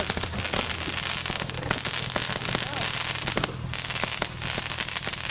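Fireworks and firecrackers being set off outdoors, with dense crackling and popping throughout over a continuous noisy background.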